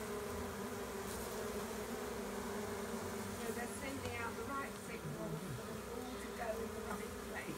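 Dense, continuous buzzing of a large honey bee swarm during collection, loud and steady throughout, with individual bees droning close by.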